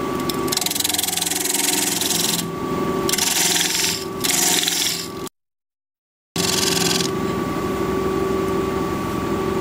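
A wood lathe turning at about 1300 RPM hums steadily while a tool cuts the spinning wood, giving rough scraping and rubbing passes that come and go. The sound drops out briefly and then the cutting resumes.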